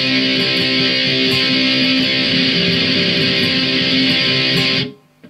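An electric guitar plays a song's interlude, a loud, sustained, distorted passage ringing steadily for several seconds before cutting off sharply near the end.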